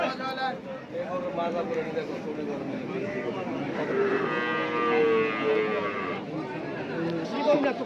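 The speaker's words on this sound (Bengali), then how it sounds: "এখানে একটা সুন্দর গরু আছে" Cattle at a busy livestock market in Chauara, Cumilla, with a long, loud moo rising partway through, over a steady crowd murmur of people talking nearby.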